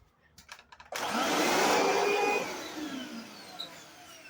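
A Eureka Lightspeed upright vacuum cleaner switches on after a few faint clicks, its motor rising into a loud, steady whooshing roar that holds for over a second, then eases to a slightly lower whine with bumps and rattles.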